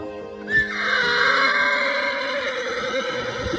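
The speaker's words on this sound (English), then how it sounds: "let's introduce you to our new horse, Jack." A horse named as a newly bought, wild animal gives a loud, close whinny that rises sharply and then trails off in a long, wavering neigh, with no talking over it.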